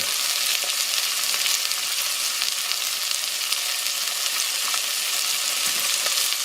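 Vegetables for a Hungarian goulash sweat in a hot pan, giving a steady, dense sizzle that holds evenly and close throughout, with no voices over it.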